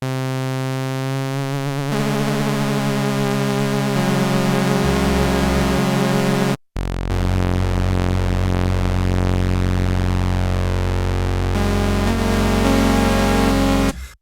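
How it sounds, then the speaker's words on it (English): An Oberheim synthesizer with oscillator 2 triangle cross-modulation gives a dense, buzzing tone with harsh, metallic overtones, sustained and loud, cutting out briefly midway before resuming with a shifted, unstable timbre. "you get oscillator 2 triangle cross modulation"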